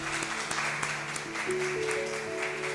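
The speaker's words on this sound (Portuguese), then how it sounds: "Vamos aplaudir a Jesus bem forte." A church congregation applauds, a dense, steady roar of many hands clapping at once, carried over sustained musical tones.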